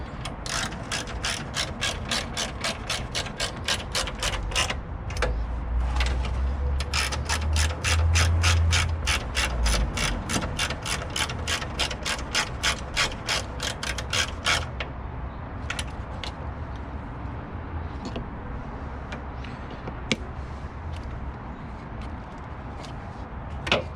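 A ratchet wrench clicks in fast, steady bursts, close and loud, while bolting a new radiator into a 1998 Toyota Camry 2.2, pausing briefly before sparser clicks continue.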